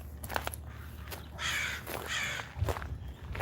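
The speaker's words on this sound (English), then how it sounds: "Always the crows, the crows, the crows." Crows caw outdoors in two or three harsh, rasping calls at moderate distance over light background noise and a soft footstep-like thump.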